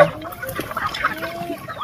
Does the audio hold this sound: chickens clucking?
yes